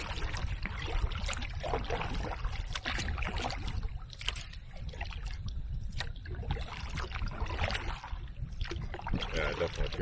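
Paddling an Old Town Next canoe on open water, with a steady wash of water sounds and strokes that continue without a break, close by and fairly loud, with a voice now and then over them.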